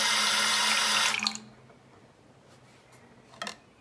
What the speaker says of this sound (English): I'm gonna add a little bit of water